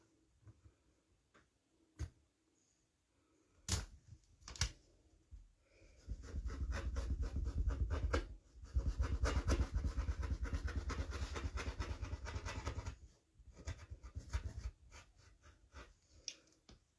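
Stacked quilt fabric for a Stack n Whack kaleidoscope block is cut in half, giving a steady close rasping scrape lasting several seconds, framed by scattered taps and rustles.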